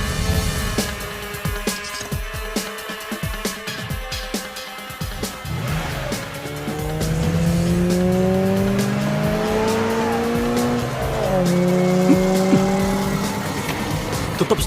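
Cars race with sharp, repeated tire squeals and skids over revving engines, loud and close, the squealing rising and sliding in long bursts through the second half.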